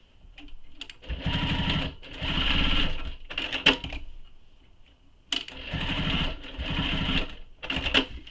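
A sewing machine stitches a leather satchel over earlier stitching, running in several loud, close bursts of rapid mechanical chatter separated by brief pauses.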